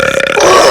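A girl lets out a single loud, close burp, short and throaty.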